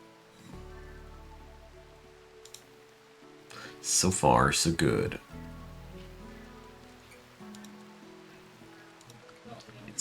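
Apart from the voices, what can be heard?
rain falling at night in the video game Rimworld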